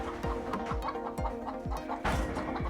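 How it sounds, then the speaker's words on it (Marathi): A gavran hen on a poultry farm in a lemon orchard gives repeated low clucks in a steady rhythm, close by, with a louder burst of noise near the end. "इकडे कोंबडी बसलेली आहे"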